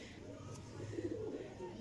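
Caged pairs of breeding pigeons coo faintly in a brief low burrowing murmur, with quiet background noise.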